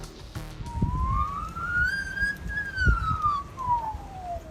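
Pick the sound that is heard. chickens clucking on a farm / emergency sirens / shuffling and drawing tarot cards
emergency sirens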